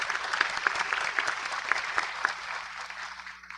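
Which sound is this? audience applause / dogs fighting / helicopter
audience applause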